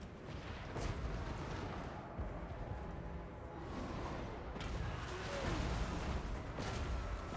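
Dwarf explosive charges blasting against fortress walls during a Total War: Warhammer battle in the Book of Shame campaign finale, with several dull booms rising over a dense, rumbling din of battle.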